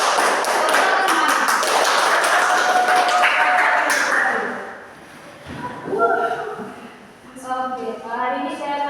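A classroom of children claps together in a counted rhythm, with sharp, busy hand taps filling the first few seconds before a teacher's voice takes over.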